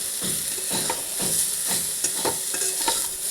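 Drumstick flowers fry in a pan while a utensil stirs them, producing a loud continuous sizzle broken by rhythmic scraping strokes about every half second, close up and without speech.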